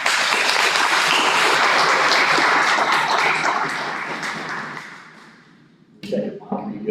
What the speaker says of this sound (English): if we could please get some applause to welcome Mr. John Wilkerson